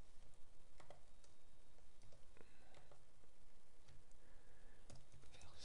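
Soft, scattered keystrokes on a computer keyboard tap out entries into an Excel spreadsheet, irregular clicks in small bursts over a faint steady room hiss, fairly quiet and close.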